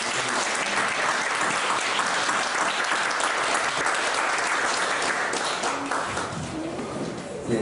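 A church congregation breaks into loud, sustained applause for their pastor at the close of a 70-day special dawn prayer service, dense clapping filling the room evenly for the whole stretch.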